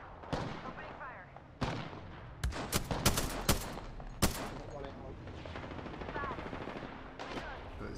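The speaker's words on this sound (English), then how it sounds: "Got a gunfight going on. Opening fire." Automatic weapon fire in the battle royale game Apex Legends, with sharp broadband bursts and rapid volleys clustered mid-clip, mixed with other game sounds and a voice talking throughout.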